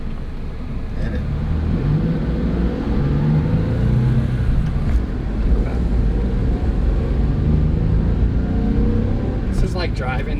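A small manual stick-shift car used for shuttling dive gear around South Florida drives along with a steady low engine rumble and road noise. A voice talks over it throughout.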